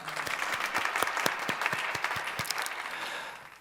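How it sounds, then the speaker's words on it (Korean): A church congregation at an early-morning prayer service applauds, a moderate wash of clapping with some distinct louder claps standing out, steady before fading away at the end. "우리 주님께 영광의 박수 올려드리기 원합니다."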